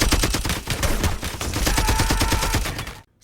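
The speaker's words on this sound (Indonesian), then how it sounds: "sontak Polo langsung menembak musuh tersebut hingga tewas" Rapid bursts of gunfire from a film shootout scene, loud and dense, with shots repeating quickly for about three seconds before cutting to near silence at the end.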